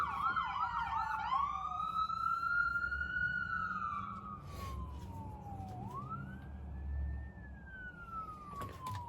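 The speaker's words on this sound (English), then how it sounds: "Sorry about the sirens, guys." A police siren wails and yelps loudly outside a barbershop, sweeping up and down as it passes nearby, fading slightly then rising again over traffic rumble.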